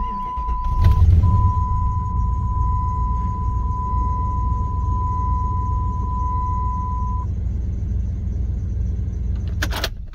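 A Jeep's engine is running after power-steering hose and oil work, a steady low rumble with a continuous tonal chime partway through and a click near the end, no speech.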